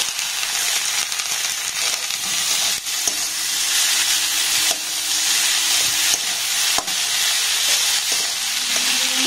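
Boiled potato and cauliflower are mashed and mixed with spices in a pan over low gas flame, giving a continuous close sizzle broken by a few sharp spoon knocks and stirring scrapes.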